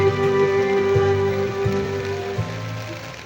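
Rain falls steadily in a farm field, a continuous patter heard alone at moderate level, with a faint steady hum beneath it and a few soft thuds.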